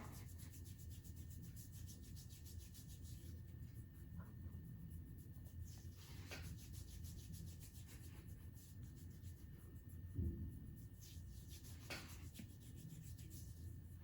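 Hands gently scrub across the face and along the jaw in a soft, continuous rubbing, very faint and close, with a few slightly stronger strokes.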